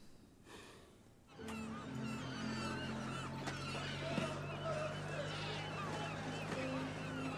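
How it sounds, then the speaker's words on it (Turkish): Several seagulls cry and squawk over a steady low engine hum, with wind and water noise throughout; a voice speaks briefly amid the birds. "Bunlar denizlerin en güzel hayvanı. Adı da martı."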